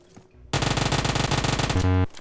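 Rapid automatic gunfire from the mobile shooter PUBG Mobile, a loud continuous burst of closely spaced shots that ends abruptly after about a second and a half.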